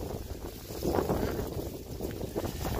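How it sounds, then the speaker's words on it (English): Strong wind blows outdoors on a bright day, a continuous low buffeting rumble with gusts that swell and ease as it batters the microphone. "it's very windy"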